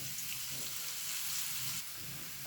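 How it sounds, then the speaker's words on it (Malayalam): Okra (vendakka) frying in hot oil with onion, a steady broadband sizzle that holds close and fairly loud throughout, with no voices. "നന്നായിട്ട് ഫ്രൈ ആവട്ടെ"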